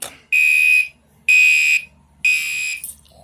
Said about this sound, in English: let's pull the fire alarm again